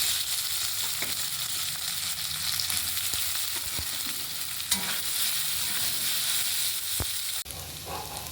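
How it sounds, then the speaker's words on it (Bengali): Steady, loud sizzling of turnip and potato frying in hot oil, with occasional scraping and stirring clatters in the pan throughout. "এবার শালগম আর আলু ভেজে নিচ্ছি"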